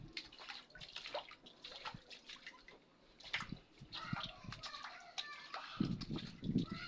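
A wiper squeegee pushes rainwater across a home floor after rain, giving irregular wet scraping and splashing that grows louder and more sloshing toward the end, with faint voices in the background.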